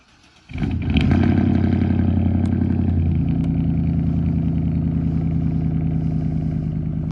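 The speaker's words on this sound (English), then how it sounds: "How about a cold start for y'all?" Engine of a vehicle cold-starting after new wheels are fitted: a sudden crank and catch, then a loud, steady, rumbling idle with rattly mechanical clatter that settles slightly a few seconds in.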